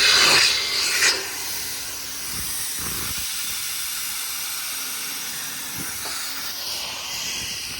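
Air compressor on a 2022 Ford F600 service truck with a 6.7 diesel, releasing air in a loud steady hiss with brief bursts, then a softer continuous hiss, nearby and without talk.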